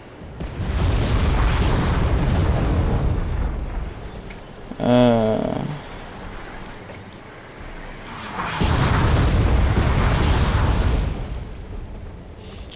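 Artillery shells burst in the Cold War strategy game Wargame: European Escalation as a town is bombarded, with deep rumbling booms rolling in long waves and a brief sharper pop between them.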